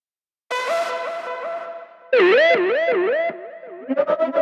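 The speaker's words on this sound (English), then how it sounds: "Let's try one of these noise tails." A noise-tail sound effect from the Evolution Devastator Warzone library, a loud synthetic tone with a wobbling, warbling pitch, heavy reverb and delay, swelling in stages and ending in rapid pulsing.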